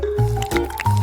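A container of jelly mixture, with room left for honey, is shaken briefly, giving a short burst of squishy, wet sloshing and squelching up close.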